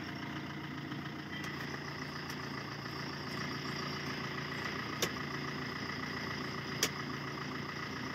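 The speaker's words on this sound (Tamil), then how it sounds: "வண்டி ஓடிட்டுருக்கு." A vehicle engine drones steadily while driving on the road from Karur toward Madurai, a continuous mid-pitched hum with a couple of faint clicks over it.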